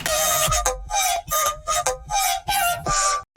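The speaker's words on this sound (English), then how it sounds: "This other layer of the exact same audio pitched all the way up." A vocal layer pitched all the way up squeals in a series of short bright phrases, separated by brief gaps, loud and upfront.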